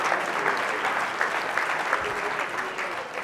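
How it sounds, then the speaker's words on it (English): Conference audience applauding a quiz winner who just took home a bottle of whiskey; dense, close clapping from many hands keeps a steady level throughout, with faint voices mixed in. "Round of applause."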